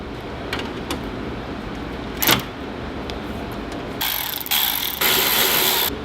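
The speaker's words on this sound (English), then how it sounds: "It's a little Milwaukee wireless ratchet." A small Milwaukee cordless ratchet runs in short bursts near the end, a whirring mechanical buzz in two or three spurts after quiet handling noise and a brief clack.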